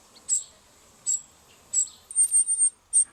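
A cuckoo chick being fed by a redstart gives high, thin begging calls: three separate chirps, then a quick run of insistent repeated notes, close and clear against a quiet background.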